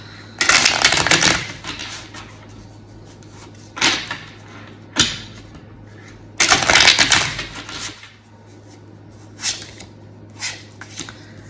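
Slippery plastic tarot cards from a foil deck are shuffled and handled in two long bursts, each running a second or more, with a few short slaps and flicks in between. The sounds are close and fairly loud, and no one speaks.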